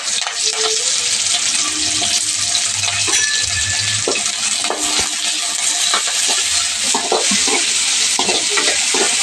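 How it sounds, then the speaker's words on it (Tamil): Chopped onions and curry leaves fry in hot oil for a chicken curry, giving a steady, loud, close sizzle with scattered spoon stirring clinks and scrapes throughout. "எண்ணெய் காஞ்சதும் வெங்காயம் ஆட் பண்ணிக்கலாம் கூடவே கருவேப்பிலையும் சேர்த்துக்கலாம்"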